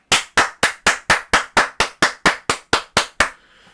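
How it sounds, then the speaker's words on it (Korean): Thirteen sharp, evenly spaced claps ring out one after another, close and crisp, then stop. "한 번 더 박수!"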